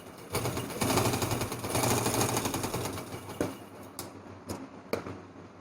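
Sewing machine stitching a fancy baby frock belt, its rapid mechanical whir running continuously for the first few seconds, then breaking into short bursts separated by brief pauses.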